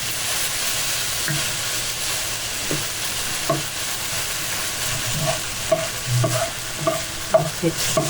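Nham fermented pork and garlic are stir-fried in a pan, with a steady, loud sizzle and continuous scraping and clacking of a spatula that grows busier toward the end.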